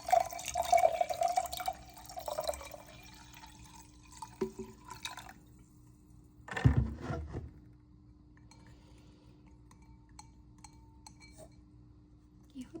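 Water is poured into a glass to about 250 ml for a fizzing Restorate supplement drink, with soft liquid trickles, a few glassy clinks and drips, and one louder splash burst midway in a quiet room.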